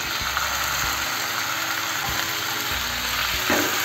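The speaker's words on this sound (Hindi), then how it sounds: "हम डाल देंगे मैरिनेट किया हुआ चिकन" Marinated chicken frying in a pan for a chicken biryani, giving a steady close sizzle with faint low rumbling and no talk.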